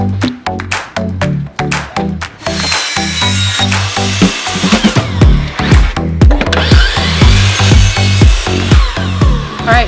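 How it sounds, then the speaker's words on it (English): Power saw cutting through a wooden board for the top of a built-in banquette bench seat, a run of loud, close, choppy bursts of cutting and tool noise repeating over several seconds. "so I cut what will be the top of my bench seat"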